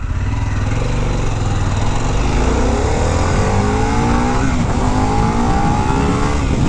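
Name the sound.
Harley-Davidson Pan America motorcycle accelerating in a second gear wheelie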